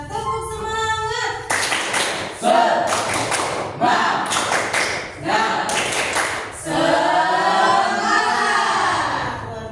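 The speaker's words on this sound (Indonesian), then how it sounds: "Yuk kita tepuk semangat." Indonesian schoolchildren in a classroom perform a rhythmic spirit clapping chant, bursts of sharp synchronized claps in repeating patterns alternating with the children's loud chanting voices.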